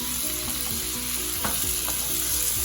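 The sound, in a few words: onions and lardons frying in olive oil in a pan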